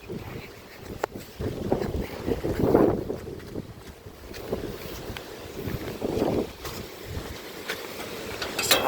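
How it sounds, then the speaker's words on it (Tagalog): Powerful Super Typhoon Fung-wong wind in Luzon at night rushes and buffets the microphone in repeated surging gusts, with a faint voice now and then underneath. "Lakas ang hangin."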